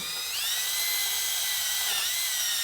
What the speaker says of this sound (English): drill the Thor's hammer